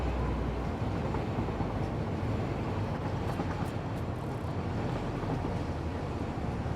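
A train running along a rail line in the Satisfactory factory-building game gives a steady, dense rumble with low-end roar, continuous and unbroken throughout, with no voices over it.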